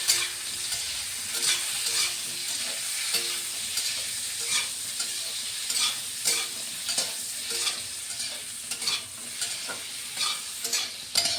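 Chicken with salt and turmeric being stirred and fried in a pan, a steady soft sizzle broken by regular scraping strokes of a spatula, fairly quiet with no voices.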